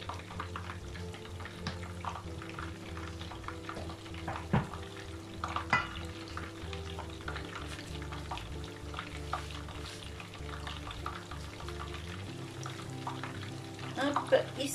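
Pineapple fritters fry in oil with a soft, steady sizzle. Faint stirring and utensil clinks mix in, and a quiet voice speaks now and then.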